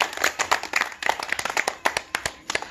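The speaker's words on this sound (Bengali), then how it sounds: "তাদের জন্য একটা জোরে হাততালি দেন সবাই" Loud, dense clapping from a seated audience at a lively show, many hands striking in quick irregular bursts for a few seconds with no talk over it.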